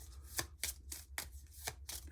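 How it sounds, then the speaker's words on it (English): A deck of cards for the board game After the Virus is shuffled by hand, with quiet, papery riffling bursts that repeat in a steady rhythm, close and soft with no talking. "Then our starting hand gets shuffled in with the rest of them."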